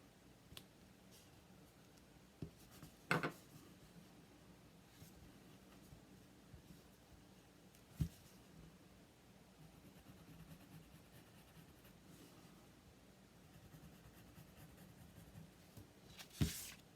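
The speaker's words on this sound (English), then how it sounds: "we're going to mark where we want to cut these angles" Pen or marker scratching on paper while marking cut lines for a flip book, faint soft strokes with occasional sharp taps and clicks, close and quiet.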